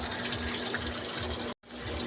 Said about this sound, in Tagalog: So yan, napakalakas ng bagsak ng tubig.